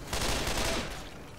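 Gunfire in the zombie shooter Left 4 Dead, a short dense volley of shots that fades within about a second and a half, close and loud.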